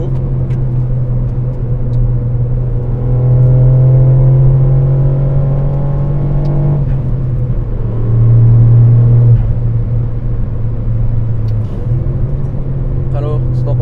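A car drives along a road with a steady engine drone and tyre rumble inside the cabin, and the engine swells twice as it accelerates. People talk over it throughout.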